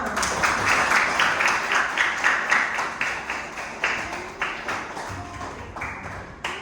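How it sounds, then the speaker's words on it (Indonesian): A classroom of primary school pupils claps together in a quick, steady rhythm for several seconds, fairly loud and close, with faint voices mixed in. "jadi tepuk tangan untuk kita semua"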